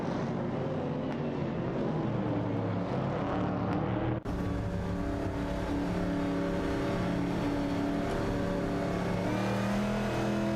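Race cars drone steadily through the whole stretch, engines holding a dense, continuous roar with layered tones, loud and unbroken, with a brief shift partway as the pitch and texture change.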